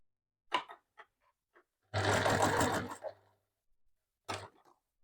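A sewing machine bastes a D-ring tab in one short, loud burst of rapid stitching lasting about a second. A few soft handling taps and rustles come before it and one more after.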